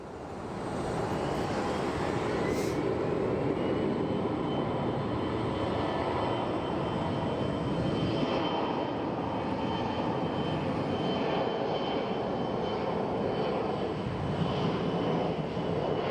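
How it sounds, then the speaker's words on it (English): An Envoy or SkyWest regional jet taking off at full thrust from Phoenix Sky Harbor Airport, a loud sustained engine roar rising quickly and holding steady, with a faint whine sweeping upward early on. "There appears to be a run and turn and burn for this Envoy flight, or SkyWest, whatever it is."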